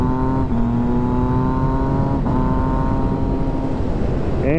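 A Honda CBR 600RR motorcycle engine running with a loud, steady high-pitched whine and small shifts in pitch, close and continuous throughout, with no talk.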